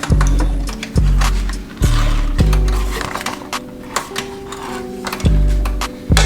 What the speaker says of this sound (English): let it run a little bit. And put it in reverse a couple times